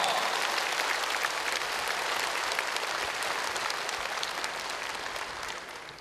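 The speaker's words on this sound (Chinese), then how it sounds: "我们现在以热烈的掌声，再欢迎长老莅临新加坡主持佛法讲座" A large crowd at a Buddhist dharma assembly in Singapore breaks into warm, sustained applause welcoming an elder monk, a dense wash of clapping that gradually fades toward the end.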